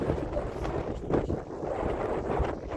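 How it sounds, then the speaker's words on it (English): Strong wind buffets the microphone on the highest point of Madeira island with a steady, loud low roar and rushing gusts, no voices. "And the wind is too strong."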